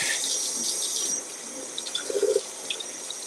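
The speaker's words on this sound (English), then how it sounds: "So, just want to rinse my hand." Water runs from a tap as a hand is rinsed under it, a steady close hiss with soft splashing and a few small gurgles as the flow is broken.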